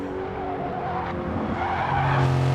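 Race car tires squeal in a sustained whine over a loud, steady engine drone at the Nürburgring GP circuit in a racing video game, with no voices.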